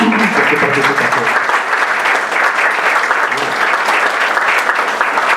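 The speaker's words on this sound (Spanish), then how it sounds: "solicito se les dé un fuerte aplauso por su participación" An audience at an academic arbitration event gives sustained, loud applause, dense clapping that holds steady throughout, with some talk or voices faintly mixed underneath.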